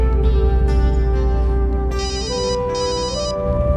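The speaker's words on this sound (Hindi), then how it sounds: "ओहो, किसका फोन आ गया?" A phone ringing with a loud electronic ringtone, a bright melodic tone pattern that repeats continuously with no voices.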